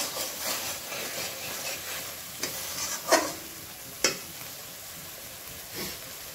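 Spice paste for a fish curry fries in oil, sputtering softly and continuously close by, broken by a few distinct stirring scrapes and clinks against the pan; nobody speaks.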